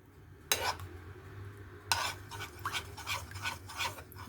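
A utensil scrapes and stirs cassava cake topping with condensed milk in a bowl, sharp clinks at the start followed by steady rhythmic scraping strokes close up.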